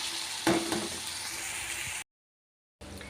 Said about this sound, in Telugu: ఇలా చక్కగా ఇలా ఫ్రై చేసుకున్నాం.